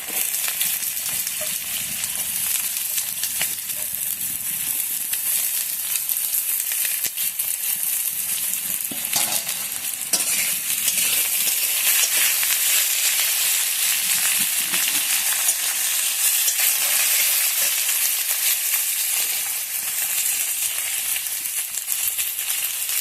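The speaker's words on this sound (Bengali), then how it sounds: "এবার দিয়ে দিই মিষ্টি কুমড়ার ডাঁটা।" Pumpkin stems frying in a pan, a steady bright sizzle held at even loudness throughout, with occasional soft scrapes of stirring mixed in.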